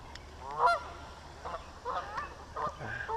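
Several geese honk in overlapping calls while landing on water, moderately distant, over a low steady background hum.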